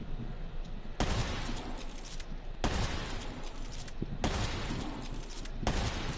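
Heavy gunfire from a shooting video game rattles in sustained loud bursts, each cutting in sharply and running for over a second, with a sniper exchange going on.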